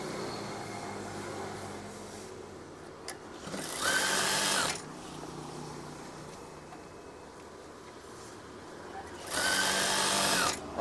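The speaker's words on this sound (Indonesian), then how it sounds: "Oke, jahit terus hingga ke bagian akhir itu." A sewing machine stitches curtain fabric in two loud whirring bursts of about a second each, close, with a quieter hum and faint room sound between them.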